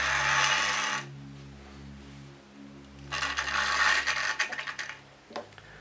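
A model locomotive, Princess Victoria 46205, runs jerkily with a loud mechanical whirr and gear rattle. The motor noise cuts out and restarts in uneven bursts, close up and with no talking.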